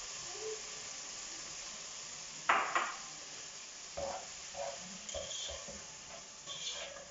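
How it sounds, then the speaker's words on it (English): Tomatoes and other food sizzle steadily in a frying pan under a constant hiss, with a few louder bursts and scraping stirs along the way. "Some more sizzling."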